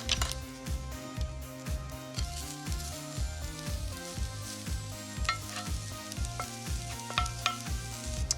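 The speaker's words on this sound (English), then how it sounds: "I'm gonna get my leeks, garlics, and onions into the kohlrabi and bacon mix." Leeks, garlic and onions frying with kohlrabi and bacon in a pan, a soft continuous sizzle under louder rhythmic background music.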